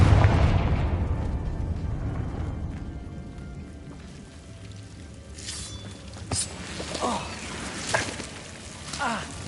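A Confringo spell in Hogwarts Legacy bursts into a loud, booming explosion at the start, its rumble fading over a few seconds, followed by scattered softer pops and crackles with some speech.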